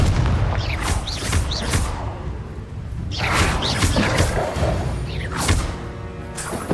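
Spell explosions from Bombarda and Confringo in the Hogwarts Legacy video game, a run of loud booming blasts and whooshes that overlap and keep the clip dense and forceful throughout.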